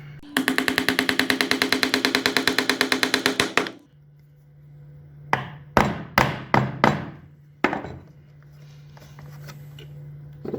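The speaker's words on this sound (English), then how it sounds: "And then start to hammer." Hammering while assembling a wooden folding stool: a rapid, even run of about thirty close taps, then a pause and five or six slower, separate heavier blows.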